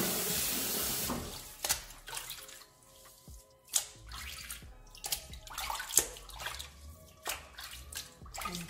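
Running tap water splashing over fresh thyme and rosemary in a sink, a steady soft flow broken by irregular splashes and drips as the herbs are rinsed.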